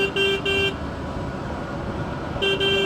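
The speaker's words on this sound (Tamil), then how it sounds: "ஹாரன் தான் சிங்கிள் டோன் கொடுத்துருக்காங்க." A single-tone electric horn on an Ultraviolette X47 electric motorcycle honks in three short bursts, a quick pair then one more, then a fourth sounds after a pause, loud and close over steady road noise.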